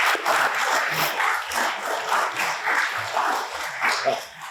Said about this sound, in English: So let's give our Parks Department a round of applause for that.